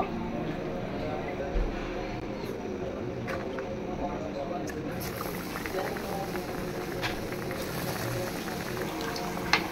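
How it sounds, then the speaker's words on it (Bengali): Potato chops deep-frying in oil after a batch of eggplant fritters, a steady broadband bubbling sizzle running throughout with a few brief clicks, fairly close and loud at a constant level. "এখন আলুর চপ ভাজবো।"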